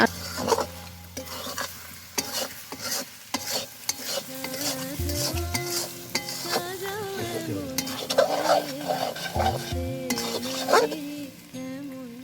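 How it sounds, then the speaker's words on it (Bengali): Potatoes frying in hot spiced oil for a Bengali mutton curry, a steady close sizzle with spatula scrapes and metallic clinks against the pan, plus intermittent stirring bursts. "তারপর এর মধ্যে সবার প্রথমে আলুগুলোকে ভালো করে ভেজে নেব"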